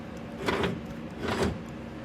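Power window motor of a 1967 Pontiac Grand Prix passenger door, with a stuck window, whirring in two short bursts about a second apart over a steady background hum, fairly close with no talk.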